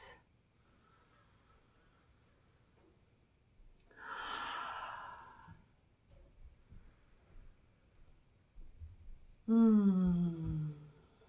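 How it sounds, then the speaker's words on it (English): Slow, deep breaths drawn in and let out in near silence, a soft sighing exhale in the middle and a louder, fuller breath near the end, close and unhurried. "3 deep breaths."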